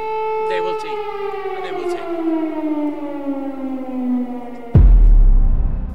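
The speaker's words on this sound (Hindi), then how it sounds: "कीव में बजा सायरन" An air raid siren sounds in Kyiv, a loud wailing tone that slowly falls in pitch over several seconds before a sudden burst of louder noise cuts in, heard as part of a news report.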